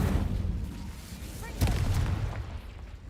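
Casting the Incendio fire spell in Hogwarts Legacy produces one sharp, bursting whoosh partway through, rising over a low, rumbling game background and then fading.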